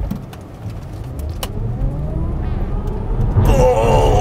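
Tesla Model S P100D launching from a standstill and accelerating hard, a low electric whine and road rumble building steadily and growing louder and fuller toward the end.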